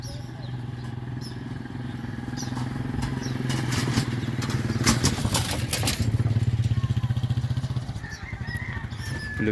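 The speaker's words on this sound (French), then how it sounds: "Le bruit des tricycles, ça, on peut pas vivre sans." Motorcycle tricycles rumbling past on a busy street near a bridge over water, a steady engine drone swelling and receding with horn-like honks and clatter.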